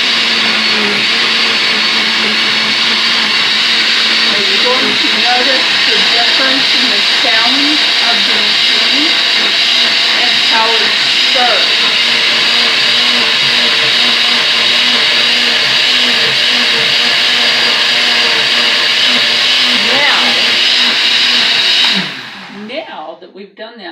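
A kitchen blender runs on its smoothie setting with a loud, steady motorized whir that holds for about twenty seconds, then winds down and stops, with a voice talking over it.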